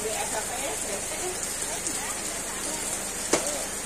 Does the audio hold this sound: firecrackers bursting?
no